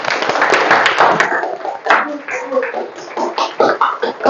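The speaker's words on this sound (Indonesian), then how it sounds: "tepuk tangan dulu untuk Tiwi." A small group claps their hands for a few seconds, a busy burst of applause that thins into scattered, uneven claps, heard close.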